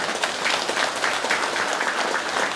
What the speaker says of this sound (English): You like to clap, huh?